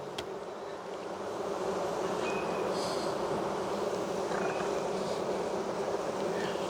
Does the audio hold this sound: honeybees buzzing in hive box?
yes